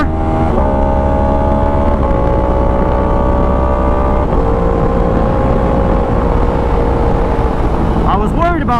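A 2016 Yamaha R1 sportbike accelerates hard with a loud, close engine roar that climbs in pitch through several gear changes, heavy wind noise running throughout.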